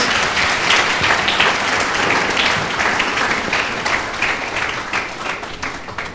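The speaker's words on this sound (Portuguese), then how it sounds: "Vamos dar outra salva de palmas para eles." Sustained applause from a church congregation, dense steady clapping that fills the room and tapers slightly toward the end, with no speech over it.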